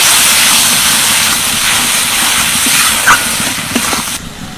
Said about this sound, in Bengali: এবার সব কিছু ভালো করে কষিয়ে নেব।